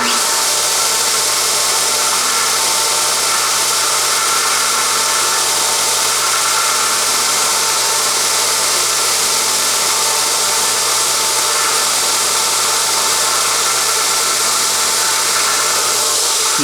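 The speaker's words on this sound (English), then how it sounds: "The purpose of the air being drawn through the motor, of course, by the fan, there's a fan in there, is to cool the motor." A homemade 2x48 belt sander's motor runs continuously while its internal cooling fan draws air through, giving a steady, loud broadband whirring rush with no pauses and no voices.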